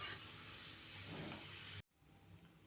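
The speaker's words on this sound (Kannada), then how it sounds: "2 ನಿಮಿಷ ಹಸಿ ಸ್ಮೆಲ್ ಹೋಗುವವರೆಗೂ ಹುರ್ಕೋತಾ ಇದ್ದೀನಿ" Grated radish paratha filling frying in a pan, a steady close sizzle and hiss that cuts off abruptly, leaving a quieter background.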